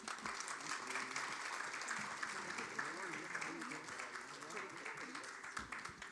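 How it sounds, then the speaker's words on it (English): Conference audience at an urban policy forum applauding to welcome a speaker to the stage, a faint, steady wash of many hands clapping, somewhat distant, with low murmurs of voices beneath. "Please give him an applause as he comes."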